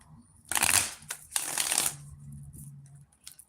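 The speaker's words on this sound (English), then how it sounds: "Let's get another shuffle here, too, for the water signs" Tarot cards shuffled close up in two short riffling bursts over a quiet room hum, the second burst trailing into softer sliding and a faint low tone.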